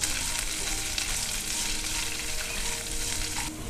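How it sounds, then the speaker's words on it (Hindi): Steady, loud sizzling of onions and curry leaves frying in hot oil, a continuous crackling hiss with no voices. "अब ऐड करते हैं कुछ कड़ी पत्ता और लास्ट में ऐड कर देते हैं प्याज।"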